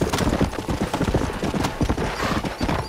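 A horse's hooves clip-clop in rapid, even rhythm as it trots close by in the Red Dead Redemption video game, loud and steady throughout with no talk over it.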